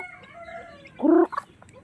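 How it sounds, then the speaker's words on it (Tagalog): A hen gives a short burst of throaty clucking, close and fairly loud, with softer faint peeps around it. "yung maliit na sisiw"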